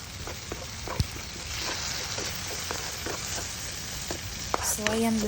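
Tomatoes frying in a pan for sarciado, a steady close sizzle with scattered pops and spatula taps, ending with a faint clink and a short tonal squeak.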